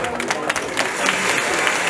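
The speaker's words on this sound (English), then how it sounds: "can we have a round of applause for that table over there?" Round of applause from the guests at a college fundraising gala night: dense, loud, continuous clapping that builds slightly over two seconds.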